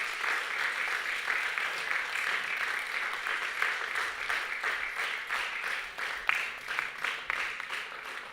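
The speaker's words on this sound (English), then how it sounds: "I need one big round of applause for all our kids present here." A large audience at a temple birthday celebration in Jersey City applauds steadily after a children's drama, sustained clapping at an even level with a few sharper claps near the end.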